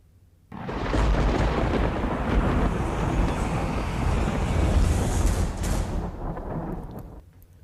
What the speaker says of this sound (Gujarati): દ્વારકામાં સવારથી જ ધોધમાર વરસાદી માહોલ જામ્યો છે